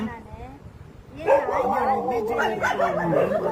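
Dogs on a beach bark, yip and whimper in a close, busy cluster that swells after a quieter start, mixed with people talking nearby.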